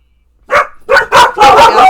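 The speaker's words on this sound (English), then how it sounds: "Oh my gosh, dog," A dog barks several times in quick succession indoors, loud and close, with short sharp yips packed together.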